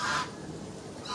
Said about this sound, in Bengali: এই মন্দিরে আবার ৩টি হাঁসও আছে, রাজহাঁস।